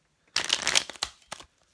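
A deck of playing cards is riffle-shuffled up close, one dense fluttering burst followed by two short snaps as the cards settle, with no talking.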